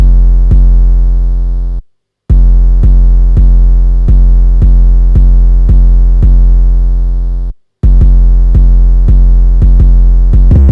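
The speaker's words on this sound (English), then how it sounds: "Then we go to the 808 and it sounds like this." Deep, sustained 808 bass notes from an FL Studio beat repeat in a steady rhythmic pattern, loud and alone, with two brief silent gaps breaking the line.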